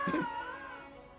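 A short, drawn-out cat meow from the Honkai Star Rail video game, clear and fairly quiet, with a brief chirp at the start sliding into a wavering wail.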